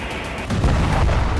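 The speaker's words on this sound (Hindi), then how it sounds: "तभी एक जोरदार धमाका हुआ।" A Russian KH-38 ML missile explodes against a building with a loud, deep boom that swells abruptly and then rolls on as a heavy, sustained rumble.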